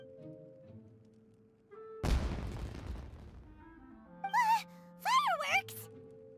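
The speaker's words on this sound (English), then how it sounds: "Was that an explosion? It sounded like fireworks." A single sudden blast like a firework goes off in Genshin Impact, a sharp crack that decays into a crackling hiss over a couple of seconds, framed by quiet game music and followed by voices speaking.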